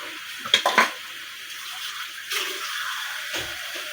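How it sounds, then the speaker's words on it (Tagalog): Water splashes into a cooking pan while adobong itlog, an egg adobo, is being made, coming as a short close pour followed by a steadier running trickle and a final splash. "Lalagyan natin ng kunting tubig."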